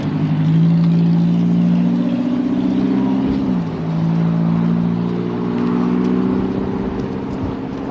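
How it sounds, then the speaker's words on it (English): A passing car's engine drones with a low grinding hum near a roadside in Whitewater, California, loud and continuous with a brief dip midway. "What is that grinding sound?"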